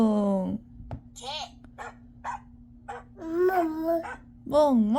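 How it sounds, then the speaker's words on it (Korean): A dog gives a run of short, quick barks and yips, followed by a higher whining tone and a voice, all close over a low constant hum. "개"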